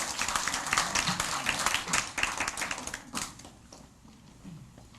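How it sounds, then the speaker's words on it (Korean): Audience clapping at a comedian's talk, a lively burst for about three seconds that then thins out and fades to quiet scattered claps. "맞다고 생각하시는 분 박수 한번"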